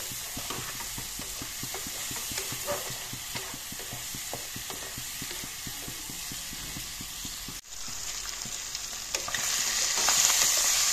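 Steady sizzling and crackling of fish frying in a hot pan, with occasional stirring scrapes and a brief dip near the end.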